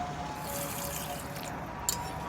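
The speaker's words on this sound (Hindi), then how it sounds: "मसालों को ऐड करने के बाद हम पानी ऐड करेंगे।" Water poured into a pan of potato and egg curry makes a soft, steady trickle, close and faint, running continuously for a couple of seconds.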